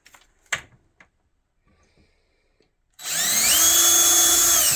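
A few soft taps and knocks, then a power drill starts up loudly and keeps running to bore a hole in a rotten fence, its high whine rising in pitch as it spins.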